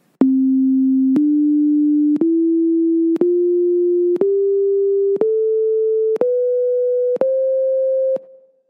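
A diatonic scale of eight pure, steady tones rising step by step, each note held about one second with brief clicks between them, loud and clean with no voices, set against the Pythagorean tuning of an ancient monochord.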